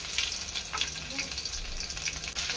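Mustard seeds, cumin and garlic frying in hot oil as tempering for a broccoli bhaji, a steady close hiss of sizzling with faint crackles throughout.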